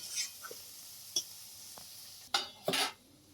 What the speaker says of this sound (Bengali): এবার নাড়াচাড়া করে নামিয়ে নেওয়া হবে।